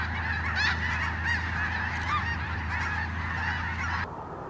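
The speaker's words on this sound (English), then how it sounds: "some Canadian geese and some snow geese" Geese honk repeatedly over a steady low rumble, a flock calling at a moderate distance before the sound drops off near the end.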